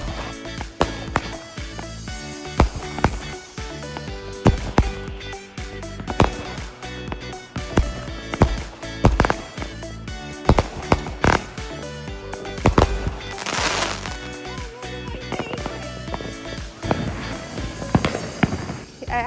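Fireworks and firecrackers from a $400 backyard haul going off in a rapid, irregular string of sharp bangs and crackles, loud and close, with a denser crackling burst midway and people talking in between.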